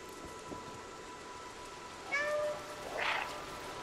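A cat meows twice in the video game Stray, two short tonal cries close together, the second higher and brighter, over a steady low ambient hum with no talking.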